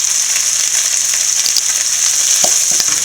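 Beans and carrots fry with chicken fried rice in a hot pan, giving a loud, continuous sizzle with a few soft stirring knocks close by.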